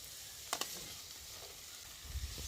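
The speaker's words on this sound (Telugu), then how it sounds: "బాగా ఫ్రై చేసుకుందాం." Capsicum, beans and carrot frying in a pan for egg fried rice, a faint steady sizzle with a couple of brief stirring clicks, quiet and without talking.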